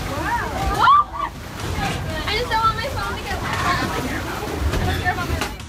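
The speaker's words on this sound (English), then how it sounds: "the way these violent waves nearly rocked these tourists out of their boats" Violent waves slosh and churn around tourist boats during a 7.1 earthquake in Mexico, close and continuous, mixed with the agitated babble of voices from the people aboard.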